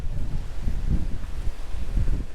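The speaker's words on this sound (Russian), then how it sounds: "Такой ветер, что, наверное, плохо слышно меня." Heavy wind buffeting the microphone, a steady low rumble with gusty surges throughout and no voices.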